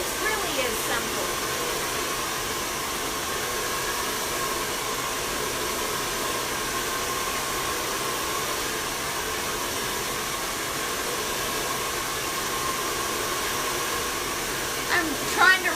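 A hair dryer blows steadily with a constant whooshing hiss, loud and close, running the whole time with only faint sounds beneath it.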